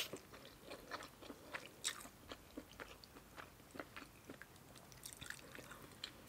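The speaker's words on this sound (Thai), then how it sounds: "มากินเส้นขนมจีนยาวๆจะแซ่บ" Someone eats soft, chewy khanom jeen rice noodles with spicy tam sua and squid, making quiet, close, wet chewing and slurping sounds in a steady irregular rhythm with small crunchy bites and no speech.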